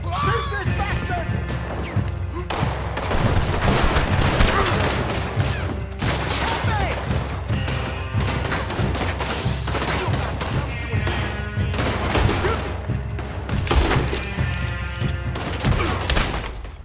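Gunfire in the video game Red Dead Redemption 2, dense bursts of shots and crashes layered with music and shouted voices, loud and continuous throughout.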